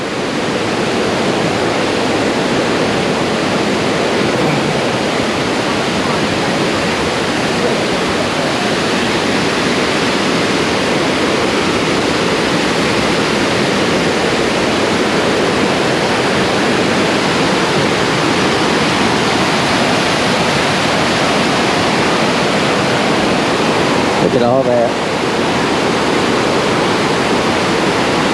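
Bald River Falls near Tellico Plains, Tennessee, pours with a steady, loud, broadband roar that never lets up, with a brief voice speaking near the end.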